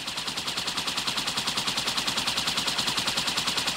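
A machine gun turret in Halo 2 Anniversary fires a sustained, loud burst of rapid, evenly spaced shots that continues without pause.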